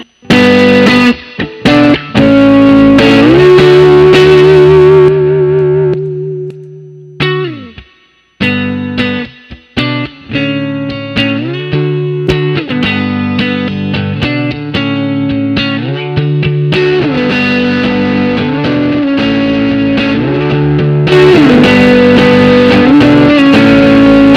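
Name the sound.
electric guitar through boost and overdrive pedals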